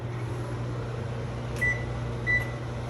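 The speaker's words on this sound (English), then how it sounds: "I'm gonna stick this in the microwave for 30 seconds so that I can slice it, because it is frozen" A microwave oven hums steadily while heating a frozen bialy, with two short beeps breaking through near the end over the constant drone.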